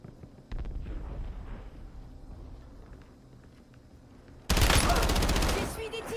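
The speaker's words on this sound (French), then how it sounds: "J'essuie des tirs." Gunfire in the Warzone video game: a loud, dense burst of rapid shots erupts partway through after a quieter stretch of game noise, close and sustained for over a second before easing off.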